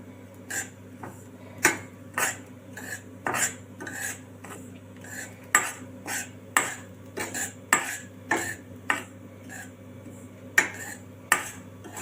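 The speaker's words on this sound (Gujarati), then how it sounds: "તો આપણે ઘી ગરમ થશે તો એ આપણે લોટને નાખી દઈશું નાખી લોટ છે તે નાખી દઈશું ધીમા ગેસ ઉપર શેકી લઈશું" Flour roasts in ghee in a pan over a low flame, stirred with a spoon that clicks and scrapes against the metal in irregular, fairly sharp taps over a quiet background.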